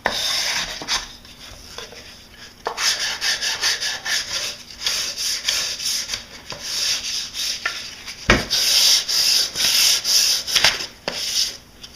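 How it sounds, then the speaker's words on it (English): Steady rhythmic rasping of sandpaper worked back and forth over wood, close up, in repeated strokes with brief pauses, no talking. "Now we're just going through here, doing some hand sanding."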